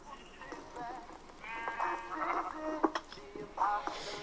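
Sheep bleat in a Minecraft game, several short wavering cries in quick succession that rise and fall over a faint background, with no talk in between.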